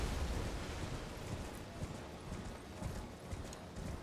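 Horse hooves clip-clop steadily while riding through the open world of the video game Elden Ring, a continuous rhythmic trot under a dense wash of game ambience, with no talking.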